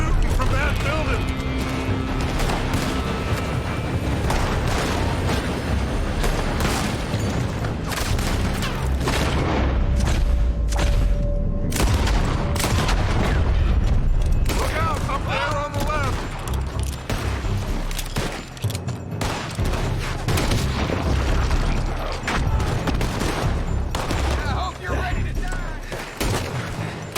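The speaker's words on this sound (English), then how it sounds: "They're shooting from that building!" Heavy gunfire from a building in Red Dead Redemption 2, with dense overlapping shots and booms forming a continuous loud barrage throughout, with shouted voices mixed into the fight.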